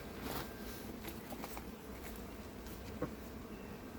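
Faint buzzing of honey bees drifting around a hive, a low hum with occasional closer passes, no voices.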